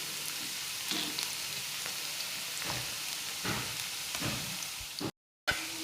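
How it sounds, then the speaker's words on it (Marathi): Potato pieces fry in a pan with a steady broadband sizzle and occasional louder crackles, stirred now and then, continuing alone without talk before a brief drop to silence near the end. "थोडासा त्याचा रंग बदलेपर्यंत आपण मस्त त्याला फ्राय करून घेऊ"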